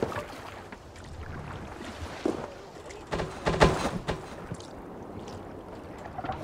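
Oars pull a Viking longship through water in Assassin's Creed Valhalla, a steady wash of splashing and creaking with a few louder knocks, set under faint background voices.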